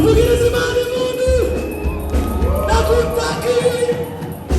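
A worship congregation ululates and cheers in praise, high trilling voices rising and falling in waves over crowd noise and a low musical backing, loud and continuous.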